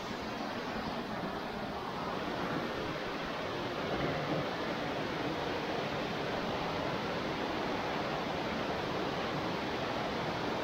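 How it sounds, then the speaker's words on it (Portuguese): Chica Dona waterfall near Itabirito in Minas Gerais, Brazil, roaring steadily and evenly throughout as broadband rushing water from a close position, with no voices. "essa cachoeira aqui é legal"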